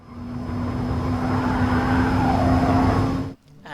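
A Porsche Taycan Turbo S electric car emits an artificial spaceship-style drive sound, a steady synthetic hum with a sustained tone that rises and falls gently before cutting off abruptly.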